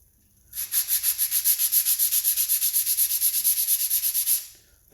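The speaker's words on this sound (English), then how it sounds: "I'm just going to be sanding this down until the wood grain just starts to show through." Rapid rhythmic sandpaper strokes sanding wood filler on wood, about thirty quick back-and-forth scrapes over four seconds, close and fairly loud, starting and stopping abruptly.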